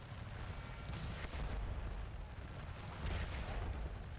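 Cannon fire in the Napoleonic battle game Scourge of War: Waterloo, heard as a dense, continuous rumble of distant artillery with muffled booms rolling over one another.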